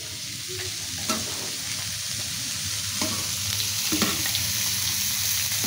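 Bora fritters and chicken frying in hot oil in a pan, a continuous close sizzle with occasional sharp clinks and scrapes of a utensil stirring.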